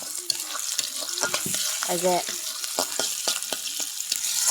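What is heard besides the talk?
onion and cabbage frying in pan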